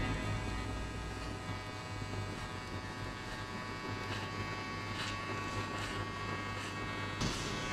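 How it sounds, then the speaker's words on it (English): An electric hair clipper set to the zero gap buzzes steadily while shaving a high skin fade at a barbershop, a close, continuous drone with slight changes in tone as it moves over the head, and no talking. "now shave everything below using the clipper with the zero gap."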